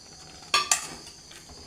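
Ground coconut is stirred into a chayote kootu stir-fry in a pan, with two quick scraping utensil strokes close by over a faint background hiss.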